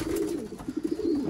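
Pigeons in a breeding loft coo softly nearby, a few low throaty burbling calls repeating in quick succession.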